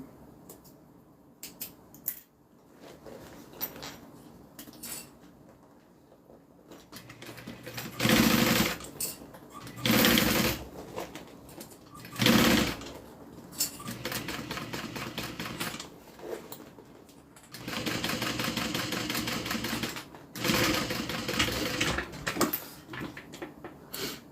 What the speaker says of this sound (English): top stitching is all done